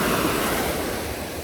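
Sea water laps and washes at a beach in Thailand, a steady close surf wash under a faint breeze, with no talking.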